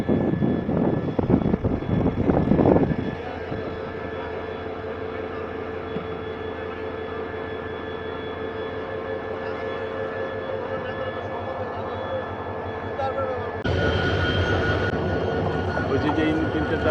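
Diesel locomotive engine rumbling steadily during shunting at Chittagong railway junction, a continuous low drone with a brief louder burst near the end, and people talking faintly nearby at the start.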